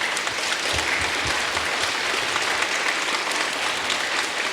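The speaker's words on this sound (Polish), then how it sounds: "Brawa wielkie na koniec" Applause closing a Passion play performance, a dense, uniform roar of many clapping hands from a large audience, loud and unbroken from start to finish with no talk over it.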